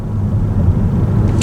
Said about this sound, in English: now I'm going to see what it's like to do an emergency brake